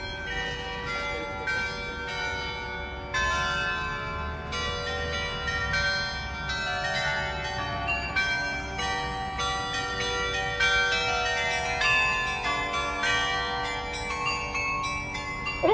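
A carillon is played in a church tower, many tuned bells ringing out a continuous melody with overlapping, sustained metallic tones, loud and resonant throughout.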